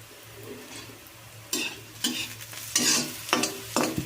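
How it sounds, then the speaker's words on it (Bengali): Small pieces of eggplant fry in a pan with a soft background sizzle, broken by several loud bursts of stirring and scraping that rise and fade. "বেগুন আমি ভেজে নেব ছোটো ছোটো করে টুকরো করে কেটে নিয়েছিলাম বেগুনগুলোকে ভালো করে ভেজে নিতে হবে"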